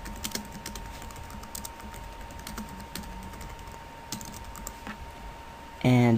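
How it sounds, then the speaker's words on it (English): Rapid, light keystrokes on a computer keyboard, a steady stream of soft clicks under a faint hum, ending abruptly with a louder tonal sound. "we'll type this in."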